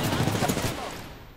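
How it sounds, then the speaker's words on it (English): Rapid gunfire bursts in an Apex Legends firefight, a short, loud, dense clatter of shots up close that fades slightly toward the end. "Just keep shooting."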